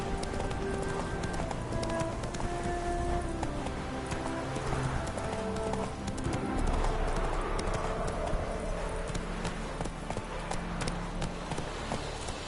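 Hoofbeats of the horse Roach galloping in a PS4 video game, rapid rhythmic clip-clop close and steady under game music and ambience, with a faint voice now and then.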